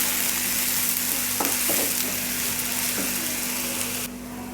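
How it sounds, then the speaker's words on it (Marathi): Finely chopped onions with curry leaves fry steadily in a pan, a bright continuous sizzle broken by a few light scraping clicks of stirring. "कांदा चांगला फ्राय करून घ्यायचा आहे."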